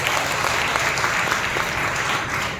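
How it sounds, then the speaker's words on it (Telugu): A church congregation claps loudly during an evening worship service. Dense, continuous applause from many hands fills the room at an even volume, with no pause. "బిగ్ హ్యాండ్, బిగ్గరగా చప్పట్లు కొట్టి ప్రభువుని మహిమపరచాలి."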